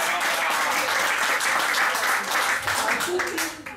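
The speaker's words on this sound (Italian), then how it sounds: "Un applauso per Eleonora." Applause at a sports press conference presenting new players, a lively burst of many people clapping that swells and then eases, with voices mixed underneath toward the end.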